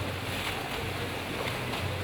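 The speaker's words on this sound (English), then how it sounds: "We have a multi-million-pound shoot with all the 100 years of cinema technology creating the waves" Artificial waves churned up on a film set to recreate a tsunami scene, a steady roaring wash of rushing water with low rumble and windy noise, loud and continuous throughout with no speech.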